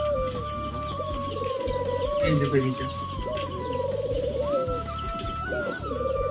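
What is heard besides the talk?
pigeons cooing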